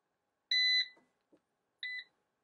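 An ECO-WORTHY 3000W 12V inverter/charger gives two short, clean electronic beeps at power-on, the first longer, separated by a brief click-like sound in near silence.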